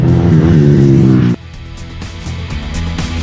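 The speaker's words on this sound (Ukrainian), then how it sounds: "Другим їде Назар Мічта в боротьбі за третю позицію" Motorcycles racing at a national motocross championship final, engines loud and close at first with a steady revving drone, then dropping abruptly to a lower, more distant engine roar that builds again slightly.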